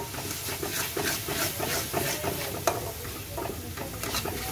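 Egg masala with mashed crisps sizzles and hisses in a pan while being stirred, a steady close frying crackle punctuated by rhythmic scraping strokes and an occasional sharp tap of the utensil.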